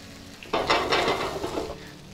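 Tilapia fillets sizzle in a hot pan as they sear on the second side, a bright hiss that bursts in after a short quiet lead-in and holds steady to the end, close and alone.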